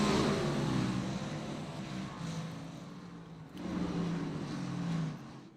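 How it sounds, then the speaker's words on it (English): Stock cars race at Martinsville, their engines droning and rising as they pass in two broad surges, with a steady mechanical roar underneath the whole time. "I feel like the cars have gotten a lot louder all of a sudden"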